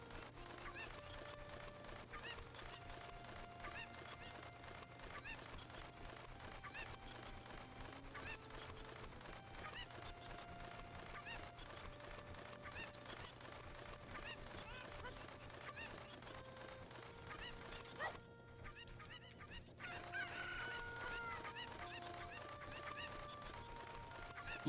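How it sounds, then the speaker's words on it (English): Cuccos, the chickens of the video game The Legend of Zelda: Ocarina of Time, cluck and squawk in repeated bursts over steady game music, the calls fairly loud and close throughout. "Alright, so I'm gonna get these chickens."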